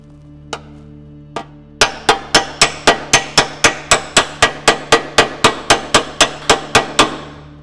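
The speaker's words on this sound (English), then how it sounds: "listen to the way the hammer is hitting the dolly or hitting the material" Two isolated metal taps, then a fast, even run of ringing hammer blows against a dolly on dented sheet metal, loud and close, each strike with a short metallic ring.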